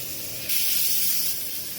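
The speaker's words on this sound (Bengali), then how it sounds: "পেঁয়াজটা রসুনটা একটু ভেজে নিব" Onion and garlic sizzle in hot oil in a pan, a steady close hiss that briefly swells louder for under a second before settling back.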